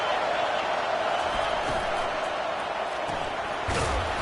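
Stadium crowd noise in an NCAA football video game, a continuous, rumbling roar of fans behind the defense on a big third down, with a sharper burst near the end.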